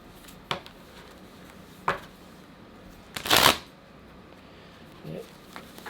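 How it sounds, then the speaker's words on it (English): A tarot card deck being shuffled in a quiet room, with a few sharp, separate card snaps and one longer riffling burst. "Why don't these cards want to shuffle tonight?"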